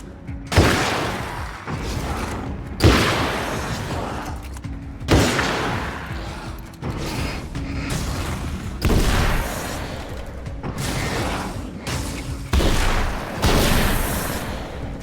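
Sawed-off shotgun blasts in Alan Wake's American Nightmare, about seven heavy booming shots spaced a second or two apart, each with a sharp crack and a decaying rumble, under constant game background noise.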